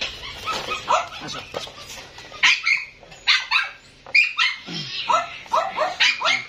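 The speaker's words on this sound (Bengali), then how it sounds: "এই যে এখানে ডগগুলো আছে, উনি ডগগুলো নিচ্ছেন।" Small dogs bark and yip in quick, repeated bursts, close and fairly loud, with some whimpering between barks.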